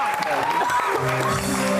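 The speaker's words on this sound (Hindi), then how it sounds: "बहुत सारी तालियां" A brief burst of audience applause with a voice speaking over the clapping.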